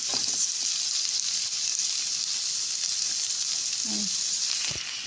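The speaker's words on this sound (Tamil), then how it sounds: "இப்போ வந்து இஞ்சி பூண்டையும் போட்டு நல்லா வதக்கிக்கலாம்" Mint leaves, followed by ginger and garlic, sauté in a hot pan with a steady close sizzle throughout and a couple of faint scraping stirs.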